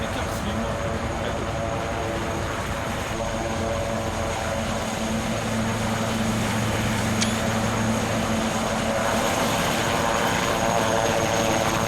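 A helicopter in the ARMA 3 video game thrums with a steady rotor and engine drone throughout, loud and continuous under a dense wash of noise.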